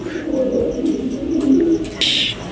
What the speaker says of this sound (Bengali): আমার ফিরোজ ভাইয়ের বাসায় এই কবুতরগুলা কালেকশন করার জন্য।